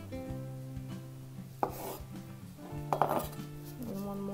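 A knife slices through carrots on a cutting board while a Polish vegetable salad is prepared, with two or three crisp, distinct cuts standing out over steady background music.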